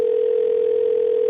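A telephone line on a radio phone-in call gives a steady, unbroken electronic tone, loud and alone for a moment.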